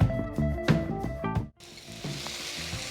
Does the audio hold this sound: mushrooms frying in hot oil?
yes